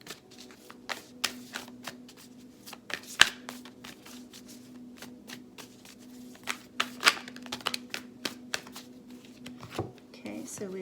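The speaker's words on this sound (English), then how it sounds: "I'm going to pull a few cards from the Moonology deck." Moonology oracle cards are shuffled by hand, giving soft scattered riffles and sharp taps over a faint steady hum, close and fairly quiet.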